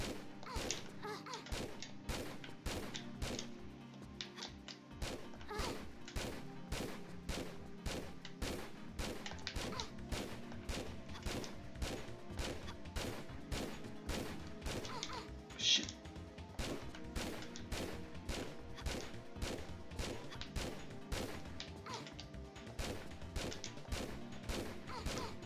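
Rapid, steady gunfire from a Tomb Raider level editor game level, shots repeating densely for the whole stretch over game music, with one louder crack partway through.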